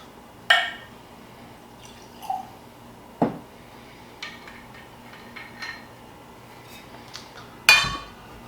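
Water being added to a glass of Evan Williams 12-year-old 101-proof whiskey, a few close drips, clinks and small pours spaced over several seconds in a quiet room.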